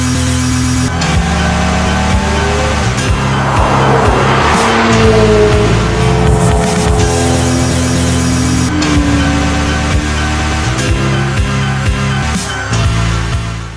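Rally cars from a desert road rally drive hard, their engines roaring and tires squealing in loud, continuous passes, partly blended with driving music.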